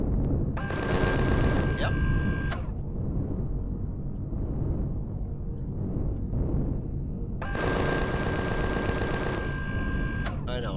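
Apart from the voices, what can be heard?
shooting trees and shrubs in the video game Empyrion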